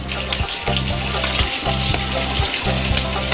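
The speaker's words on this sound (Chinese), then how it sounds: "咱们这个鲍鱼就能煎好了" Abalone pan-frying in olive oil, a loud, steady close sizzle with crackling spits running throughout, alone without talk.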